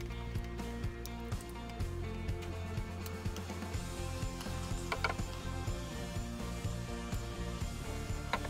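A Makita multitool is used by hand to turn a 35 mm self-tapping screw into a dry wooden block, giving a continuous close ratcheting click with repeated mechanical clatter and creaks and no talking.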